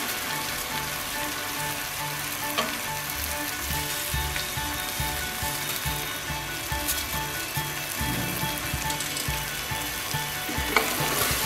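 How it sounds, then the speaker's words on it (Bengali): Rice frying with cooked-down spices in a pan for bhuna khichuri, a loud continuous close-up sizzle with occasional stirring scrapes and clinks, without speech. "ভুনা খিচুড়ির জন্য চালটাকে খুব ভালো করে ভেজে নিতে হবে।"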